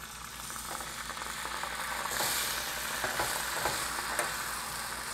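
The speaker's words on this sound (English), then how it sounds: "our butter and almonds are getting nice and toasty brown, and so we're going to take our 2 tablespoons of lemon juice" Lemon juice hitting sizzling browned butter and toasted almonds in a pan: a continuous close frying hiss that swells louder partway through, with a few light stirring taps.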